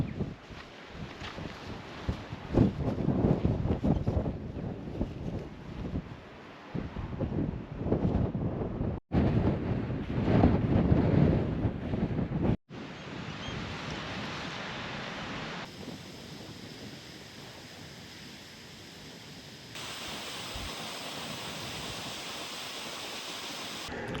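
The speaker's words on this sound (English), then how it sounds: "It's a bit windy" Steady wind on an open hillside while hiking, a broad rumbling roar buffeting the microphone in gusts, with brief drops and then a flatter, continuous hiss.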